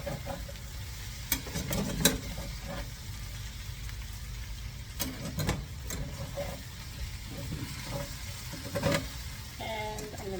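Hash browns fry in oil in a pan with a steady close sizzle, broken by occasional stirs and scrapes of a utensil.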